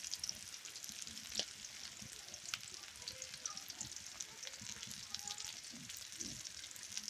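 Food frying in a pan in a village kitchen, a steady close sizzle with occasional stirring scrapes and faint talk in the background.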